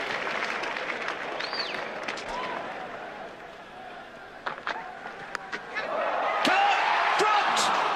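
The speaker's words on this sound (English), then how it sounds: "The crowd stands and applauds" Stadium crowd at a 1988 Test cricket match in Brisbane applauding a six by Viv Richards, a broad wash of clapping and cheering that swells louder near the end, with a commentator talking over it.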